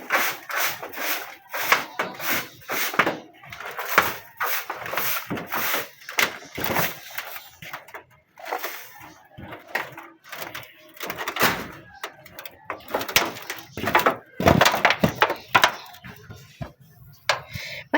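Debris being swept from a corrugated iron roof: repeated scraping strokes of a broom across the metal sheets in irregular bursts, with rattling and rubbing close by.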